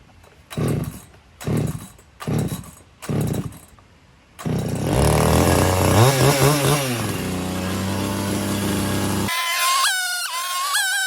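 A chainsaw cutting firewood sputters through four short pull-start bursts, then roars into a loud, sustained run with revving swells before cutting off, followed by a rooster crowing.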